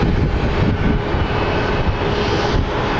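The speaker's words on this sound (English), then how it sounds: "And here comes our FedEx feeder plane." A FedEx feeder Cessna Caravan turboprop arriving at Phoenix Sky Harbor International Airport gives a steady, loud engine and propeller drone with a faint tonal whine, no voices heard.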